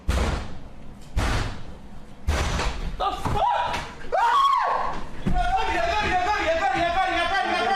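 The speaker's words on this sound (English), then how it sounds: "Then there are some really loud bangs at the door." Several heavy, loud bangs pound on a door in quick succession, then a streamer's startled shout rises over ongoing background game sounds.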